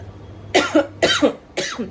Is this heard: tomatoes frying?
no